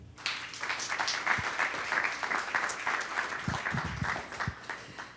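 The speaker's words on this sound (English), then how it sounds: "Please welcome Kate with a big applause." Audience applause welcoming the host at a women-in-STEM panel event, a dense, steady wash of many hands clapping over about five seconds with a few low thumps, no voices on top.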